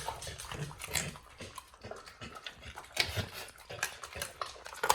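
Close, wet chewing and crunching as a dog gnaws and eats a chicken leg, with irregular bites and smacking, no talking.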